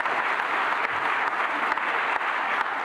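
An audience at a women's awards ceremony claps steadily and evenly throughout, a dense wash of hand claps with no voices over it.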